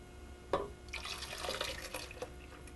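Milk and melted butter mixture poured into sweet bread batter, a soft continuous liquid splash and trickle lasting a few seconds, close by with no talking.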